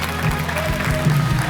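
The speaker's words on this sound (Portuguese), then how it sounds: "Dê a sua melhor salva de palmas para Jesus." A church congregation breaks into sustained applause during a sermon, many hands clapping together over low droning tones, with a voice faintly present beneath.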